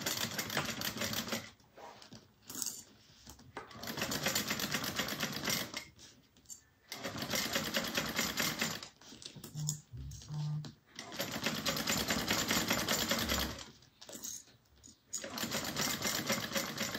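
A sewing machine top stitches across the top of a fabric satchel, running in several bursts of rapid mechanical chatter separated by short pauses, close and fairly loud.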